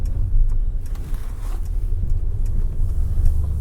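Steady low road rumble inside a Mercedes-Benz Citan van while driving, a continuous muffled drone of tyres and engine with faint higher hiss, fairly loud and unbroken.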